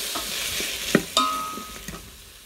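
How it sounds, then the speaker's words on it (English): Minced garlic sizzling in a Cosori pressure cooker pot as it is stirred, with a soft steady fry, a couple of sharp utensil knocks against the pot and faint scraping, close and moderately quiet. "We're going to take half a tablespoon of that minced garlic, a big heaping, and throw that in there. And on the same time, still keep on stirring it around."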